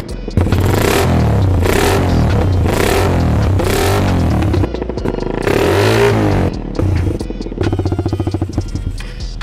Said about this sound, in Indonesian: itu suara dari Satria FU konsep cafe racer ini yang udah finish ini